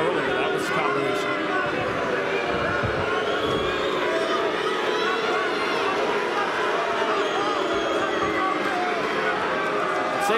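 A crowd roars steadily throughout a mixed martial arts fight, a dense continuous murmur and cheer heard beneath a commentator's ongoing talk.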